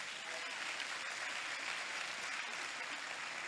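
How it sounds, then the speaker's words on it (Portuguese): A church congregation applauds during a Sunday celebration service, a steady wash of many hands clapping with no break, moderately loud and filling the room. "Quem pode aplaudir ao Senhor?"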